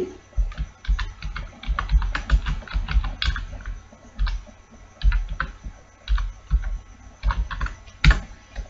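String input is typed on a computer keyboard in bursts of rapid clacking keystrokes, loud and close, with brief pauses between groups of presses.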